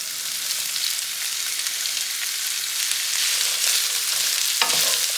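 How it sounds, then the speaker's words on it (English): Sausage and vegetables sautéing in hot oil in a pan on a stove, a steady, bright sizzle with a few stirring scrapes, close up and with no talking. "And we're gonna saute these for about 3 or 4 minutes until these vegetables start to soften a bit."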